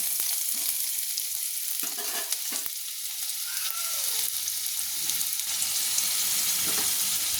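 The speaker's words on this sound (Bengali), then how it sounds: "দিয়ে ভালো করে নেড়ে নিচ্ছি।" Chopped garlic fries in oil for barbati aloo, a steady bright sizzle with occasional soft scrapes from stirring, close and continuous throughout.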